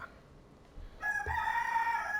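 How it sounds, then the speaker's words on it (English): A rooster crows in the Caribbean, starting after a quiet moment and holding as a loud, drawn-out call that ends the clip, with a faint thud just before it. "Rooster, give me a break, please."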